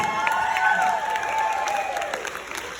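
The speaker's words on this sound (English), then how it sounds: "Come on, give me some applause for making it to 40." A live audience at a birthday celebration applauds and cheers for the performer Tim Foust turning 40, a broad crowd clapping with whoops and voices rising over it, tapering slightly toward the end.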